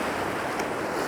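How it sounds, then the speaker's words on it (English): Ocean waves rush in at sunrise on a shore, a steady broad wash of surf that is loud and close with wind noise throughout. "Water's rushing in"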